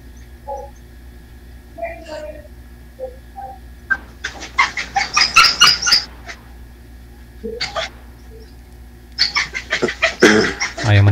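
Two playful dogs make short yips, whimpers and excited barks in scattered bursts, close by, with some intermittent voices in the background.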